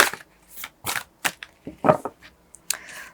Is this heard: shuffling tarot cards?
yes